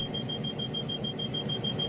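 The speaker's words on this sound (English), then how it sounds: "If constant attention is not paid to the train, alarms sound and the train eventually shuts down." Inside a train cab, an attention alarm from a dead man's pedal system sounds as a steady, continuous high electronic tone over a low rumbling background, unbroken for the full two seconds.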